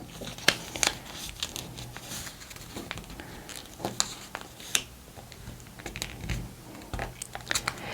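Sheets of paper folded by hand while making a paper cross, with a steady run of close crinkles, creases and sharp papery snaps spread irregularly across the span, quiet and without talk.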